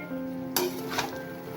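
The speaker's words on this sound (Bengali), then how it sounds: "এই চিংড়িগুলো দিয়ে দেবো, দিয়ে এবার ভালো করে কষাবো" Prawns sautéing with spices in a pan for a jackfruit and prawn dish give a steady near sizzle, with a brief sharper burst of frying noise midway, no voices.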